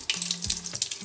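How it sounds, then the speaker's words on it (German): Tap water runs and splashes into a plastic ice cube tray in short gushing bursts, close and bright, with no talking. "Stöpsel raus. Wasser rein."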